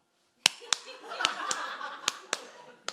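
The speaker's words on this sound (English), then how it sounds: "people always do the poetry clap" A poet on stage claps a few sharp, spaced hand claps to show the typical poetry-reading clap, with faint audience laughter and murmuring rising between the claps.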